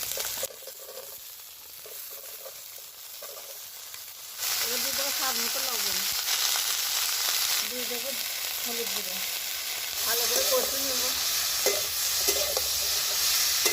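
Vegetables sizzle and fry loudly in a pan with green chilli and onion, stirred with scraping strokes; steady hissing rises sharply partway through as the vegetables go in, with a voice talking faintly at the start.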